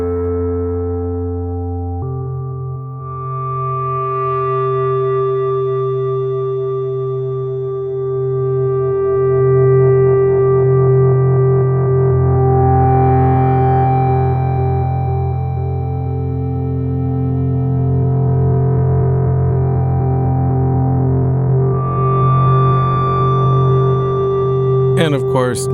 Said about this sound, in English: So for now, I'll just manually modulate the filter and play the keyboard.